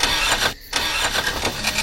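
A car engine sputters in rough, uneven bursts, cuts out briefly, then chugs again with loud irregular pulses, close by with no voices.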